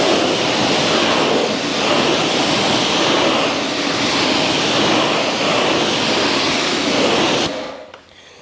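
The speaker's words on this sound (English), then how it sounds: "You can definitely feel the pressure on the pressure washer." A pressure washer sprays water onto an Imola Red BMW G80 M3 in a garage, producing a loud, continuous hissing roar that runs steadily before cutting off abruptly near the end.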